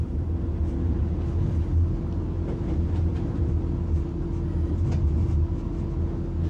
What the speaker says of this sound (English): a Class 47 awaits departure to the ICI plant at Oakley